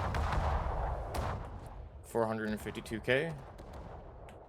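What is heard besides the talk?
secondary guns firing in World of Warships video game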